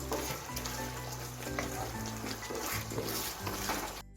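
Chinese-style mixed vegetables being stirred and fried in a pan give a steady, continuous sizzle with occasional scraping of the utensil, close and fairly loud, with no talking.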